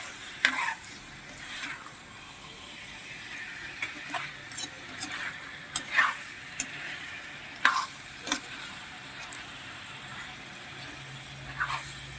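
Buttered shrimp being stirred in a pan: a soft low sizzle with scattered light scraping and tapping of a utensil, fairly quiet and close, irregularly spaced.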